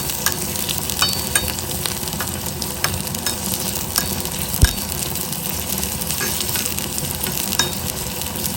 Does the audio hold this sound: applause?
no